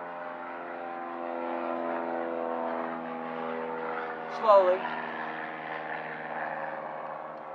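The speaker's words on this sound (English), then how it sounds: "airplane going overhead" A crop duster airplane passes overhead with a steady droning propeller hum that swells slightly, while a voice briefly speaks in the middle.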